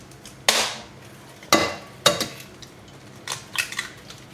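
A utensil clatters against a bowl while cake batter of sugar, flour, vanilla sugar and eggs is mixed, several sharp separate clinks and scrapes at uneven intervals, close and fairly quiet, with no talking.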